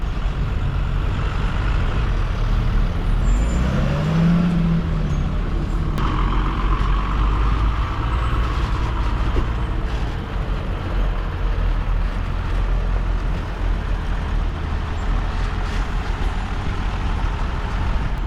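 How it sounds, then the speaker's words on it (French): Fire trucks rumble and idle close by at a farm, positioning around a Valtra fire tractor for a crop-fire drill, with a steady low engine drone, a brief hiss like an air brake, and continuous vehicle noise throughout. "voilà les petits camions de pompiers. Ils sont en train de se disposer autour"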